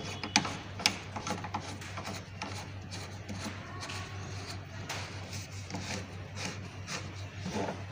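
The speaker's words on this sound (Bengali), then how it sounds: "এইভাবে লেগে জামনাটটা টাইট দেবো।" A nut is tightened by hand while a MIG welding torch is fitted to the machine, producing steady close ratcheting, rubbing and grinding metal clicks with a couple of sharper knocks at the start.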